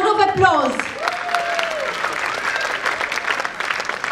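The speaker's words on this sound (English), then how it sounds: "Please give them a loud round of applause." Audience applause at a school's annual function after a performance, steady crowd clapping that holds throughout, with a voice speaking and a brief tonal sound over it at the start.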